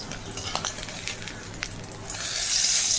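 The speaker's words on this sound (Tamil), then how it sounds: "அடுத்தடுத்த முட்டையையும் பொரிச்சுட்டு கண்டினியூ பண்ணுறேன்" Eggs frying in a pan, giving soft crackles and pops that grow into a louder steady sizzle near the end, close and with no voices.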